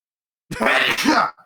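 A single sharp sneeze bursts out close and loud for under a second, followed by brief silence, during a casual podcast-style conversation.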